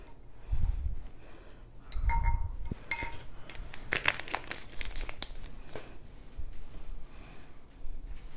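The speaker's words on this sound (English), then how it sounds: "I'm going to try to align those fibers as best I can by pulling them apart and stacking them" Dubbing fibers for steelhead fly tying are pulled apart and stacked by hand, giving soft crinkling and rustling bursts with a few faint clicks, close and quiet, with no talk.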